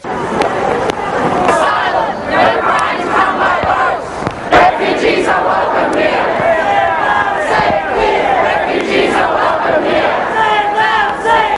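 A large crowd of street protesters against a hardline immigration policy in Australia shouts and chants continuously, close and loud, with many voices blending into a dense roar.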